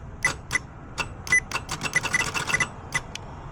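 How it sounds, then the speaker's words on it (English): A car starter that clicks without turning the engine over makes a rapid series of sharp metallic clicks and ticks, irregular and close, with no cranking. "So obviously the starter is clicking, but it's not turning over."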